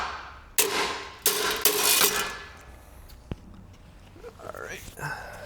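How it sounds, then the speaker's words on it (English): A few sharp metallic bangs ring out near as a VW fender's sheet metal is hammered, spaced irregularly, followed by softer clanks and clatter in a workshop. "then hammer it the rest of the way"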